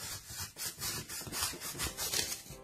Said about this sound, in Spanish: Cogemos un cúter y vamos a cortar